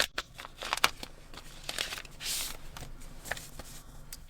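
Paper manuals and documents handled during a DJI Mic Mini 2 unboxing, close, crisp rustles and flicks of sheets in quick irregular bursts.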